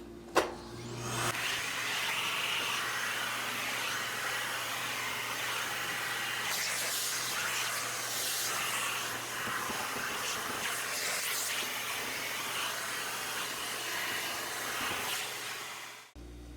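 A vacuum cleaner fitted with a duster brush cleans dusty refrigerator coils, starting with a thump and then a steady, loud whooshing roar with shifting airy hiss as the brush moves, stopping abruptly at the end.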